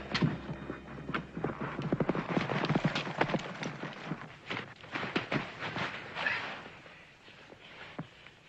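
Horse hooves clop rapidly on hard ground, a busy galloping rhythm that gradually slows and thins out toward the end.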